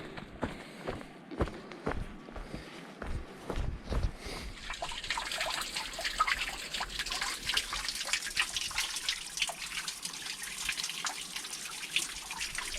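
Footsteps crunch along a trail on Vancouver Island, then a steady babbling of a flowing creek rises and continues, bright and close, with steps faintly beneath.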